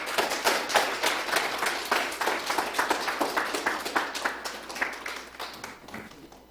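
Warm applause from a church congregation at a Sunday service greets a missionary saxophonist, with dense, steady clapping that gradually thins and fades toward the end.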